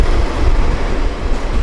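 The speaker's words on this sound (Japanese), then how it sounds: "駅で待ってたら貨物列車に追い抜かれます。" A freight train carrying containers rumbles past through a station on the Nippo Line in Japan, a loud, continuous, broad roar with no talk.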